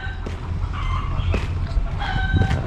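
Chickens and a rooster crow and cluck repeatedly at a farm worker site in Israel in the evening, several calls overlapping at mid distance over a steady low hum of background noise.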